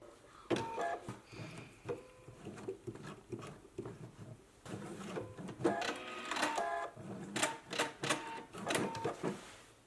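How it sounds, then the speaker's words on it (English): Home sewing machine stitching across all thicknesses of fabric to secure a placket on a McCall's M8449 garment, rapid mechanical stitching in uneven bursts with pauses, close and fairly loud. "Now we're going to stitch across all thicknesses to secure the placket onto the front"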